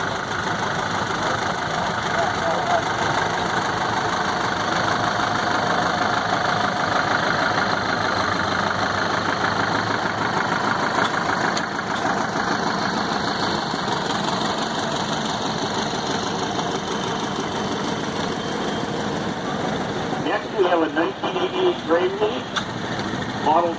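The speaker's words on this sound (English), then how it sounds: "We have another one over here, Jackson's Tractor" A tractor engine runs steadily with a low knocking idle throughout during an engine show tractor parade, nearby, with a voice talking over it.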